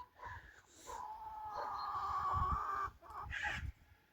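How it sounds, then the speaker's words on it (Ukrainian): Nearby chickens cluck and cackle in drawn-out calls, one long squawking phrase followed by a shorter burst, with no voices. "Кури сокорять, хочуть іти нестися"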